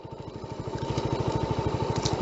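A motorcycle engine runs steadily while riding, its pulsing exhaust throb rising slightly as it goes, close and fairly loud with no talk over it.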